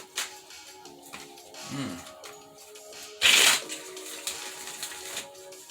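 A deck of tarot cards is riffled in one quick, crisp burst near the microphone, with quieter handling rustles around it and a voice speaking at times.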